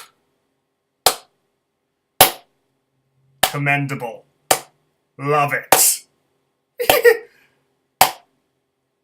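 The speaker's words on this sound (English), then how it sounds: "slow clap." A slow clap heard during a card game, with single sharp claps spaced roughly a second apart and a voice talking between some of them.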